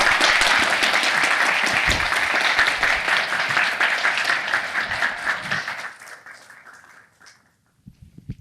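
A conference audience gives a sustained round of applause after a talk on effective altruism and health, full and even for several seconds before thinning to scattered claps and near silence, with a voice briefly speaking at the end.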